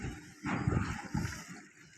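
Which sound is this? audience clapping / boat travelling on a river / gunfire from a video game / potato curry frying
boat travelling on a river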